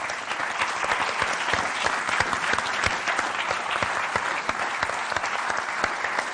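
An audience claps continuously at an event honoring a Deportivo figure's grandson, a dense, even wash of applause from a crowd filling the whole stretch.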